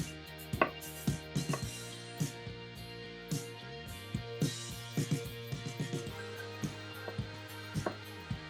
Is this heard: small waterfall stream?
no